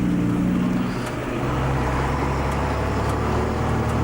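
A 1981 Volvo F12 truck cruising on flat terrain, its steady low diesel engine drone close and continuous, with a faint shift in pitch partway through and no voices.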